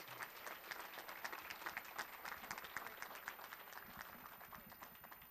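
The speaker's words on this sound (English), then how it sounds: "And how about a great round of applause for all of our high school awardees?" A banquet crowd claps for high school award recipients, a full, continuous burst of applause with many overlapping hand claps, steady and fairly close, gradually easing toward the end with no speech.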